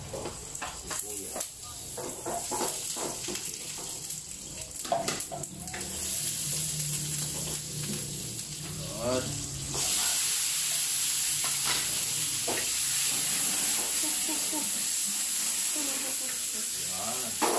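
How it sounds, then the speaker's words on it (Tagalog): Onion, garlic and tomato sautéing in a pan for sarsiyadong tilapia, a continuous sizzle that grows louder and brighter partway through, with scraping stirs and a person talking over the first half. "Narating gigisa tayo ng sibuyas, bawang,"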